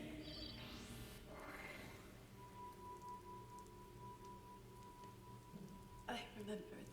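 Steady rain falls in an anime scene, a continuous hiss with a low rumble beneath it, and a soft tone sustains through the middle before a sharper burst near the end.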